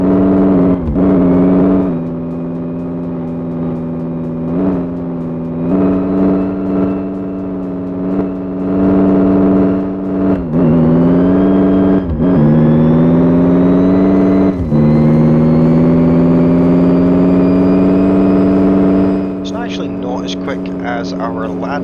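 A car engine in the video game My Garage revs and accelerates loudly and steadily, its pitch climbing in repeated surges with brief gear-change dips before a long sustained rising pull.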